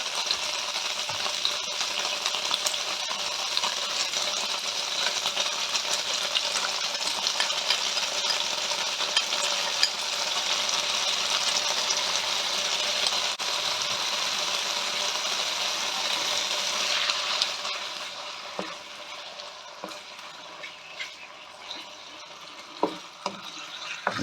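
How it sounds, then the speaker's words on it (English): Chilli garlic chicken frying in a pan, a steady close sizzle that goes on throughout, with light scraping and clinks as it is stirred, quieter toward the end. "we're going to stir that up and we're going to let that fry for a few minutes"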